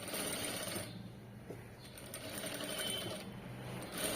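A sewing machine runs steadily while stitching thread piping along a garment edge, its close, continuous whirring mechanical hum briefly easing in the middle before picking up again.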